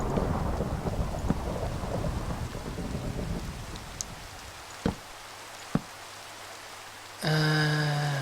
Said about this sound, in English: Ooh, hello there, lightning bolt.